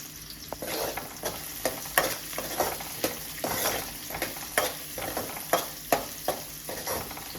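Onions fry with cumin in a pan, a steady close sizzle broken by a regular run of scraping stirs, roughly one every half second to second.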